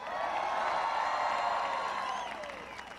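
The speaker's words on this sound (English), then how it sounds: "Please give them a big round of applause." A crowd at a presidential campaign rally in Aurora, Colorado, claps and cheers in one sustained burst of applause that is dense and loud, then fades over about three seconds.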